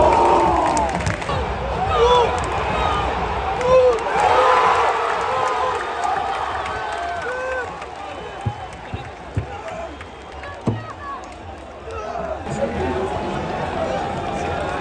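Al Wasl football fans chant and cheer outdoors, a large crowd roaring continuously with rhythmic shouts and scattered claps, with talk nearby over the noise.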